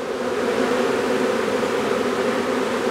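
Honeybees buzzing in an open hive, a steady dense drone that is moderately loud and constant throughout, with no voices.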